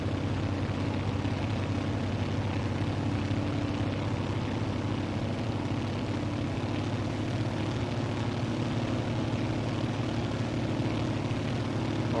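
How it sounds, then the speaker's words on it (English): Twin piston engines of a Grumman Goose amphibian aircraft in Microsoft Flight Simulator, a loud, steady propeller drone with a throbbing low hum that runs unbroken and unchanged throughout. "Can you hear me, or should I turn down the engines a bit"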